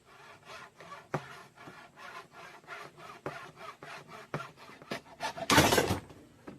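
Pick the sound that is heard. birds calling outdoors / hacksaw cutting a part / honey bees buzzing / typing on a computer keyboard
hacksaw cutting a part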